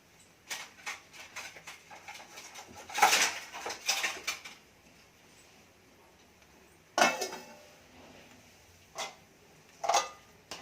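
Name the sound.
lid being put on a cooking pot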